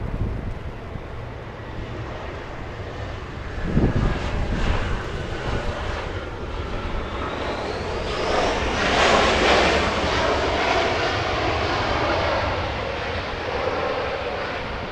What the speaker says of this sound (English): We have SkyWest 3558 flying in from Spokane, Washington.